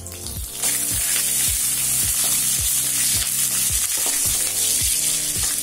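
Curry leaves dropped into hot oil with peanuts for Tamil peanut rice, a loud steady sizzle with a regular scraping stir, close and alone without talk.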